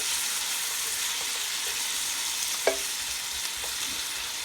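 Garlic, onions and asparagus sautéing in a pan while being stirred, a continuous gentle sizzle broken by a single sharp clink of a utensil and a few faint scrapes, no speech.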